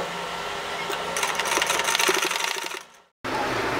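A sewing machine runs in a steady, fast whir as it stitches a fabric frill for a pillow cover, speeding up briefly, then slowing and stopping before running again, close and moderately loud.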